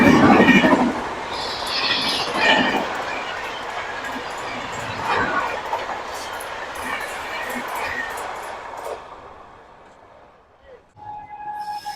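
Indian express train, No. 12398 from New Delhi to Gaya, passing at a crossing near Jaswant Nagar, a loud rumbling roar with clattering wheels and some squeal that slowly fades, with a voice talking over it.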